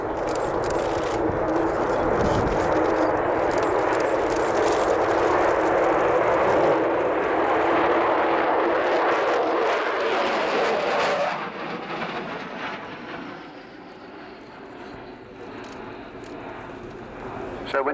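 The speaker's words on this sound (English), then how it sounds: "So as Kev brings the Vulcan in along the runway, along the display line" An Avro Vulcan jet bomber roars past at close range along an airshow runway, a loud sustained rumbling howl that swells, then drops away abruptly as the engine noise fades into the distance.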